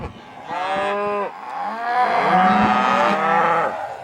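Cattle bawl and moo repeatedly during autumn weaning on a Nebraska ranch, several loud, drawn-out calls overlapping one another close by with no talking.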